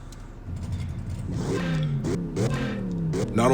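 A car engine in the CarX Drift Racing 3 video game revs repeatedly, its pitch rising and falling through several gear-change swoops over a steady engine hum, loud and close with no talking.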